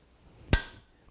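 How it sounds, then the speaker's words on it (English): One sharp, ringing blacksmith hammer blow lands on a chisel cutting a forged leaf, a single bright metallic strike that rings out briefly from close by and fades in a quiet room. "I am going to overlap my chisel blows."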